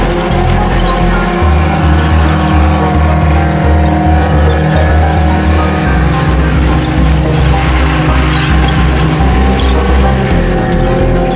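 A life-sized remote control tank drives through woods, its engine a loud, continuous low rumble with steady mechanical drone throughout, no talk.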